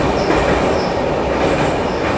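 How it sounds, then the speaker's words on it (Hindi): Borivali Vatva Express heard from a passing train while being overtaken, a loud continuous roar of wheels and carriages with faint squeal, no voices. "overtaking Borivali वातवा express"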